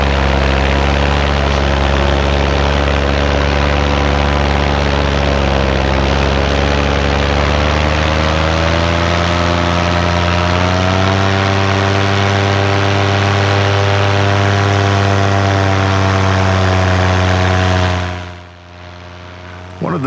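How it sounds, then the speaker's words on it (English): A powered parachute trike engine and propeller run loud and close, a steady droning buzz whose pitch rises and falls gently, then cuts off abruptly near the end. "We got Andy out here tonight on the power parachute"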